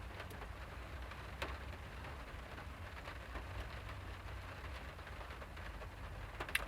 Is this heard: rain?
yes